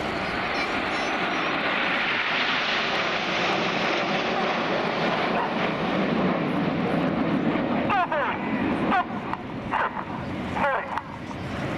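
Roaring jet engines of the RAF Red Arrows aerobatic team fill a flying display at Air Waves Portrush, a broad steady rumble with wind noise and faint distant voices underneath.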